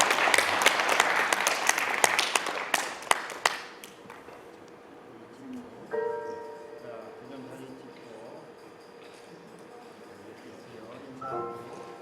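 Loud applause from a crowd at a short film festival award ceremony for several seconds, tapering off, followed by a quieter room with faint tones and murmuring.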